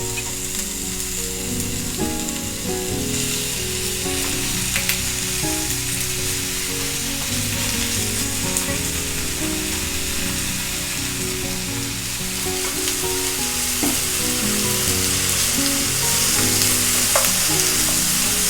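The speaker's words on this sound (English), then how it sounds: "Stir fry the pork and the onion." Sliced pork and onion stir-fry over medium heat in a non-stick frying pan, giving a continuous loud sizzle with scraping and stirring of the utensil against the pan throughout.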